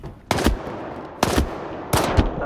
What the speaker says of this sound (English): Oh, he shot me.